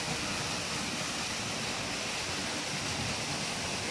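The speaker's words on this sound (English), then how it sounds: "Next to our waterfall." A waterfall in a mountain forest reserve on St. Vincent roars as a constant, dense rush of falling water, loud and close, with no voices over it.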